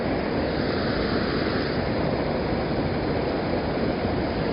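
Water pours over a weir in a constant, loud, broadband rush with no letup, heard close to the flow and alone without any voices.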